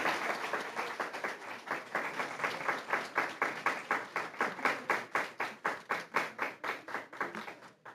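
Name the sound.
applause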